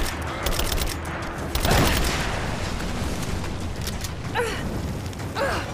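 Gunfire in the video game Rise of the Tomb Raider, a burst of rapid shots and clattering mechanisms over dense in-game rumble, with a few sharper metallic creaks toward the end.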